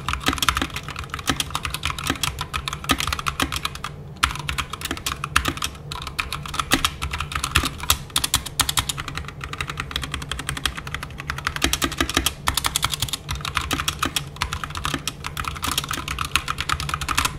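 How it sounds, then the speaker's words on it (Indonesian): Continuous fast typing on an Apollo 61 mechanical keyboard fitted with red linear switches, dense clacky keystrokes close up with no pauses, no talking. "Apollo 61 yang gue pegang ini sendiri menggunakan red switch dan menurut gue suaranya memang tidak silent"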